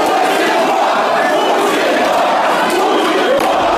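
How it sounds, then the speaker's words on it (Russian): A dense crowd at an unsanctioned protest rally in Moscow, shouting and chanting together in a loud, continuous roar that fills the scene without a break. "Вот Алексей Навальный выступает на несанкционированном митинге и после ведет толпу по Москве"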